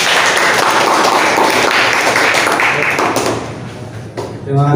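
An audience at an Indonesian home-business seminar breaks into applause, a loud dense wash of clapping that fades toward the end, where a voice begins speaking.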